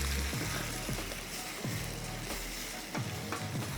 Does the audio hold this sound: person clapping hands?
no